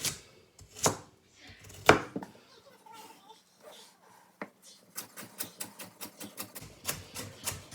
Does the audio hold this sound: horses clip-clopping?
no